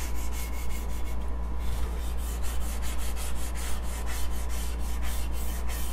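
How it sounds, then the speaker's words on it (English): A 120 grit sanding block is rubbed back and forth over a wooden charcuterie serving board in steady, rhythmic scratchy strokes, close and continuous over a low electrical hum, with no speech. "again it's with a 120 grit"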